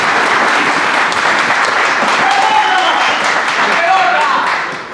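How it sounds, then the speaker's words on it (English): Dense, steady applause from an audience at a football club's season awards ceremony, loud and sustained throughout before tapering slightly at the very end, with crowd voices mixed in. "So give him a round of applause."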